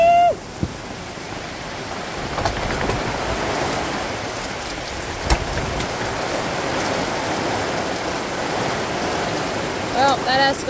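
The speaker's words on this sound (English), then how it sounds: "Oh well, I'll never complain about the rain." Heavy rain pours down steadily on an outdoor farm, a dense, close hiss of drops lasting throughout, with brief voices at the start and end.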